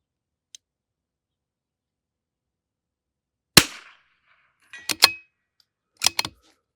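Rifle shots fired at a range with Eley Ultra Extreme ammunition at 200: one loud sharp crack after a long quiet, then two close pairs of reports, each with a brief tail and silence between.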